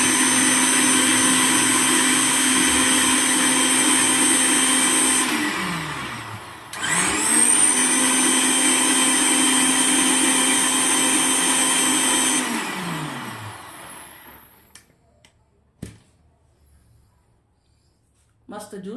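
A mixer blends papaya and coconut water juice with sugar in two loud, steady whirring runs split by a brief pause. Each run winds down as the motor stops, and the last one fades into near silence.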